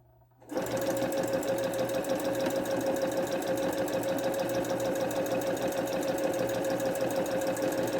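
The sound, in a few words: sewing machine stitching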